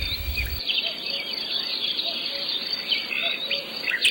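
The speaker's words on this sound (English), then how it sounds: "The courting song of a male cricket whispered in the gentle breeze as a little bird" A male cricket's high, continuous courting song shimmers steadily while a small bird twitters in brief chirps above it, faint and outdoors, after a short low rumble at the start.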